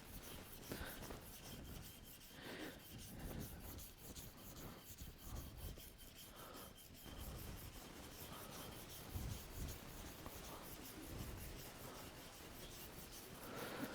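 Hand sanding of a wood bowl with 320 grit sandpaper, a gentle, steady rubbing rasp that continues close and quiet through the whole stretch with soft rhythmic strokes.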